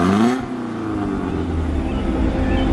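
A BMW 318Ti engine with a warm start misfire revs loud and close, its pitch climbing and then holding at a steady, throaty drone, with a brief voice near the start.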